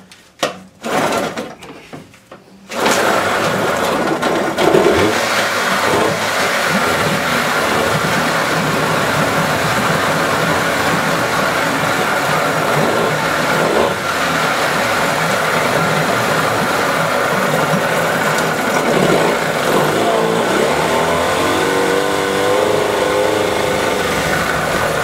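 A 1997 Evinrude 15 HP outboard motor with its lower unit fixed catches after a few short pulls, then runs steadily and loudly for over twenty seconds.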